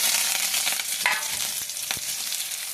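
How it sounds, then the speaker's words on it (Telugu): Tempering for chana dal chutney fries hard in hot oil, a loud continuous sizzle with crackles and stirring scrapes, close by and with no talk over it. "చట్నీలో పోపు వేస్తున్నా."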